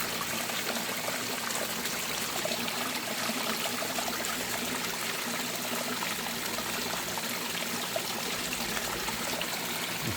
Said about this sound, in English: The waterfall is looking really good.